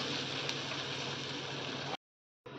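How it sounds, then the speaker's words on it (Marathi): Water boiling in a pan for a Khandeshi sandgyachi bhaji curry gives a faint, steady bubbling hiss that cuts out to silence briefly before resuming. "आणि आता आपण पाण्याला उकळी येऊ देणार आहोत"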